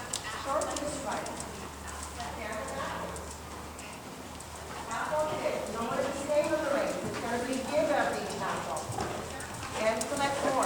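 A horse canters in a dressage arena, its hooves drumming in a steady, rhythmic beat on soft footing while a coach talks over it throughout.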